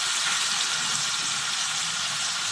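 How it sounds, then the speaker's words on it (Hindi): Potatoes fry in masala in a pan with a steady, close hiss and sizzle that stays even and continuous, with no voices. "साथ साथ उनको भी अच्छे से मसाले के अंदर भून लूँगी"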